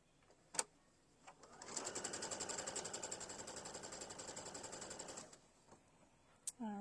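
Sewing machine stitching a quarter-inch seam on fabric for a vinyl mesh zipper pouch, a rapid steady mechanical whirring hum lasting several seconds between a few soft clicks, close and alone.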